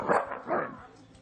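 Several dogs barking and yipping in a television game-show studio, two louder barks close together then fainter yelps, with studio noise around them.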